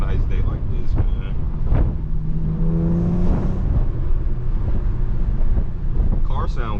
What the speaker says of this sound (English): Car sound good too with the windows down.